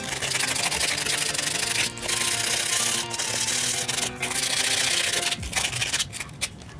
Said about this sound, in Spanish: Voy a lijar una para que vean la diferencia respecto a la otra.